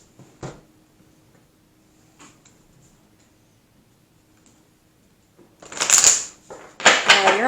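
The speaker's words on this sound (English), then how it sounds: "Let's pull an oracle card." An oracle card deck shuffles in two close, loud riffling bursts near the end after a mostly quiet stretch with a few faint taps.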